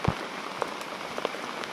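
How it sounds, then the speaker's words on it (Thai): Heavy rain falls outdoors on a forest hiking trail at Phu Chi Fa, a steady close hiss of drops with a few sharper taps on nearby surfaces. "ฝนมันตกแรงมากเลยครับ"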